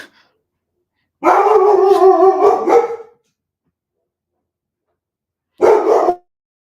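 A dog howls loudly for about two seconds, then after a silent pause gives one short, sharp bark, close to the microphone.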